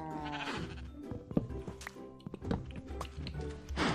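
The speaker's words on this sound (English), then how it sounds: "Now we got some sheep." Blocky sheep in Minecraft bleat several times in quick succession over a busy game backdrop of steady tones and clicks, close and moderately loud with no talk.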